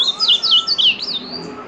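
An ultramarine grosbeak (azulão) sings a quick series of bright, rising-and-falling whistled notes, close and clear, followed by a softer trailing phrase, with no talking.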